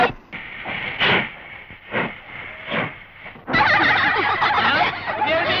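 At a railway station, scattered short bursts of sound give way midway to a loud, sustained hiss and rumble from a train close by.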